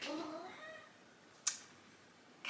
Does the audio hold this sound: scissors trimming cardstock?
no